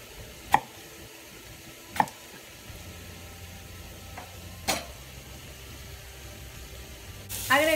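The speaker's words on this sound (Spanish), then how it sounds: "Vamos a rebanar el tomate en trocitos." A knife chops through tomato into small pieces on a cutting board, a few sharp, spaced knocks standing out over quiet room noise.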